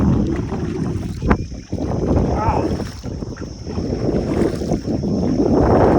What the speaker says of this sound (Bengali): ট্রলার থেকে ডিঙি নৌকা নিয়ে এবার আমরা যাচ্ছি ডাঙ্গার দিকে